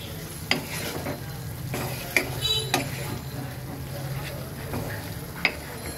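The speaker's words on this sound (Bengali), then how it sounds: "এবার ভেজে রাখা আলু সহকারে আমি এটাকে মিনিমাম 5 থেকে 6 মিনিট কষাবো" Fried potatoes are stirred and sautéed with spice paste for egg curry, making a low continuous sizzle under repeated spatula scrapes and occasional sharp knocks against the pan.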